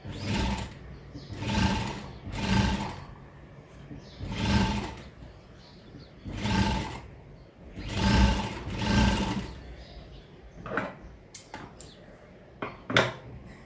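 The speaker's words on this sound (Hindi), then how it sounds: "इसके ऊपर हम डबल सिलाई लगाते हैं ताकि ये सिलाई जो है वो नहीं निकले" A sewing machine runs a double line of stitching along the seam of a katori blouse in short bursts of steady mechanical whirring, repeating several times, with quiet handling sounds between runs.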